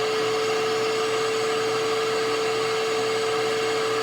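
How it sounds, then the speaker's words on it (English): A record-cleaning vacuum runs continuously with a steady, even whoosh of airflow and a constant motor hum, close and fairly loud, with no talking. "It's going to get a little loud here when I turn on the vacuum"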